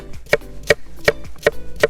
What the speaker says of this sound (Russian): И теперь нарезаем морковь. Я нарежу полукольцами.